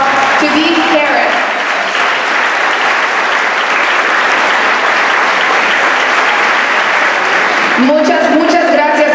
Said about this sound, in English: Children, give a big round of applause to these parents.